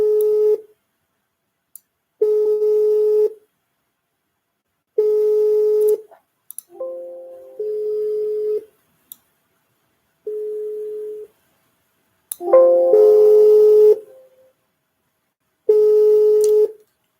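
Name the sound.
Telegram phone call tones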